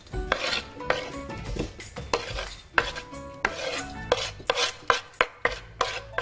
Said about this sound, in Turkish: İlk önce şu kaseme malzemeleri koyayım.